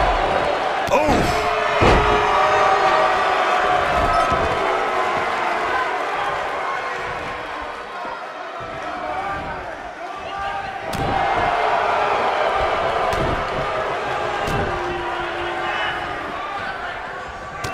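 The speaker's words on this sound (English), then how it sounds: "Listen to this crowd." A crowd in a boxing video game roars and cheers continuously as a dense, swelling wash of noise, with sharp thuds and slams from punches cutting through at intervals.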